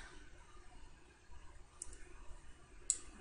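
Computer mouse clicks while working in Paint.NET, faint and close, a couple of soft isolated clicks over quiet room noise.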